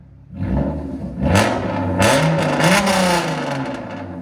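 A Hyundai Genesis Coupe 3.8L V6 with a straight-pipe exhaust and custom tune is revved hard three times in close succession. Each rise is loud and raspy, and the engine hums between the blips with no talking.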